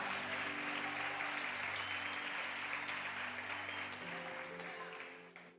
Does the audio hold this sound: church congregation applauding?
yes